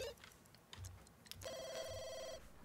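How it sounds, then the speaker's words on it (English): A telephone rings in The Sims 2 video game: one steady electronic trilling ring of about a second, moderately loud over soft game background sounds, with no talk. "phone is ringing"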